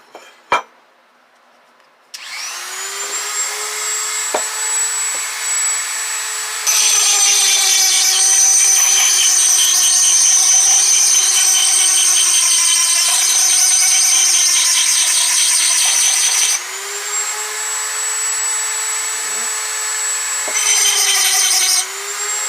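A rotary tool grinding a hole through a glazed ceramic pot, a loud high-pitched whine that spins up, grows harsher and grittier mid-way as the bit bites, then eases and roughens again near the end.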